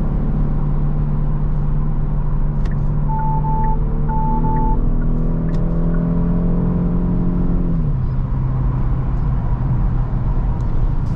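Genesis G70 3.3-litre twin-turbo V6 in a 2022 rear-wheel-drive sedan accelerating from inside the cabin, engine tone climbing steadily through the revs, then easing as it upshifts, with constant road rumble.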